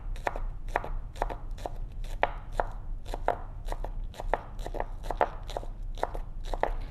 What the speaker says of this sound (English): for the onion, let's chop it up